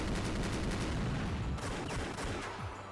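Dense gunfire from the Rose Guns Days video game, a sustained rattle of overlapping shots and bursts, loud and continuous with no talk over it.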